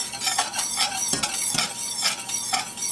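A thickening sweet potato glaze bubbles on the stovetop while it is stirred, giving a continuous close bubbling sizzle with rhythmic scraping strokes throughout and no voices.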